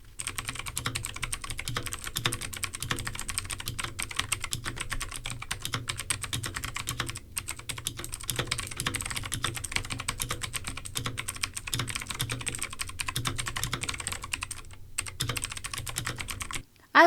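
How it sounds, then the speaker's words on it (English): An RK96 mechanical keyboard with blue switches is typed on continuously, giving a dense, even stream of crisp, clicky keystrokes up close, with only brief pauses and no talking. "Here's a sound test of the RK96 with blue switches."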